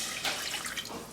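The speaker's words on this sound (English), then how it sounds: "Dump the liquid in." Mandarin juice poured from a container into a pot on a stovetop burner set to medium-low, a brief soft splashing trickle of liquid heard up close with no talking.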